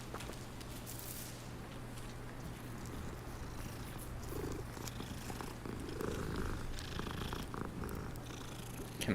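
A cat purring in Hogwarts Legacy, a close, steady low rumbling purr that continues throughout, with faint footsteps and soft game ambience underneath.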